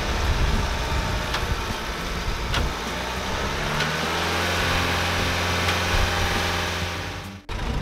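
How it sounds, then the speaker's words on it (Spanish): An old truck parked for 17 years, cranked on its own battery without turning over, gives a loud, continuous mechanical churning with faint periodic pulses that runs for about seven seconds and then cuts off abruptly. "Al principio probamos a arrancarlo con nuestra batería."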